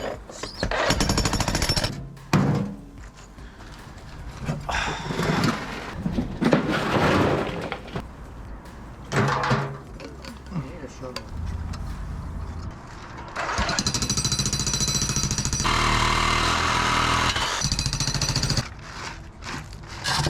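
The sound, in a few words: jackhammer breaking material during renovation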